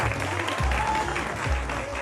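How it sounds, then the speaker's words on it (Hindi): Studio audience applause on a morning television show, a brief, even spell of clapping with speech-like sounds mixed in. "बहुत सारी तालियां"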